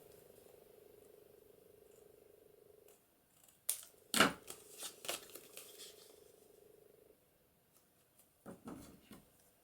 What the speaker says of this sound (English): I think I actually cut my card then.